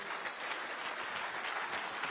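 Steady, dense applause from an audience at a Kenyan public gathering with President Ruto, continuous clapping filling the whole moment with no speech over it.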